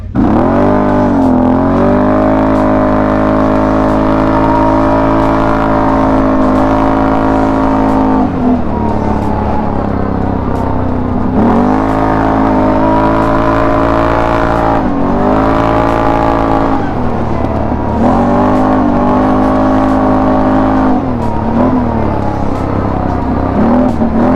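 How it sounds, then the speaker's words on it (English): Loud Can-Am ATV with a performance exhaust revving and roaring continuously, pitch rising and dropping as it accelerates and shifts, close to the recorder. "the bike is noticeably louder, both at idle and revving"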